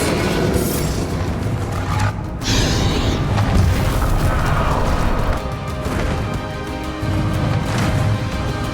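Bombarda spell explosions in Hogwarts Legacy, loud booming blasts with crashing debris in a dense, continuous battle mix, with short gaps between bursts.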